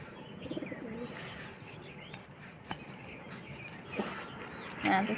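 Pigeon at a loft cooing and chirping close by, with light handling noises and a louder bird call near the end.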